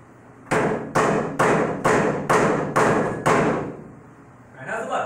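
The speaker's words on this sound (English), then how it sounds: "I'm going to take the hammer and hit the penny over and over again and see what happens to it." A hammer strikes a penny seven times in a steady rhythm, each blow a loud, close metallic thud with a short ring, followed by a brief faint sound at the end.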